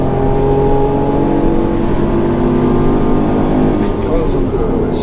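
Engine of a Suzuki Every 5AGS van on a winding road with studless winter tires, braking and shifting to third gear, a steady loud drone heard from inside the cabin with a slight pitch change near the end.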